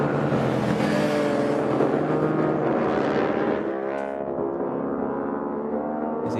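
A KTM Duke racing motorcycle in a CVMA Hooligans road race roars loudly and continuously close by, its rich harmonic engine note holding steady before easing slightly a few seconds in.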